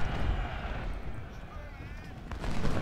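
Artillery in Ultimate General: Civil War booms in a rolling battle din, heavy low thuds and crackling gunfire layered throughout, louder at the start and end, with someone talking over it.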